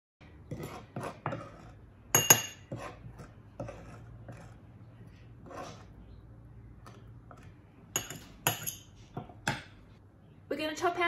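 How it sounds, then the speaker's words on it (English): Garlic is smashed into a paste with a fork: a series of close, light metallic clicks and taps, some in quick clusters and others spaced apart, with quiet pauses between them. "Then we're going to smash it into a paste with a fork."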